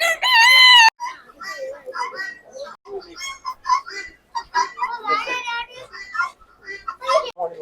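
An American silkie rooster at Nisargadhama in Coorg gives one loud, close crow at the start, followed by scattered fowl clucks while people talk nearby.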